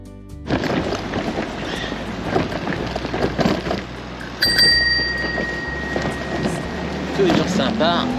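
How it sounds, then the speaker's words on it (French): A bicycle bell gives a quick bright ring midway through a ride on the road in London, standing out over steady wind and road rumble. "Et un petit coup de sonnette au cas où quelqu'un arrive en face."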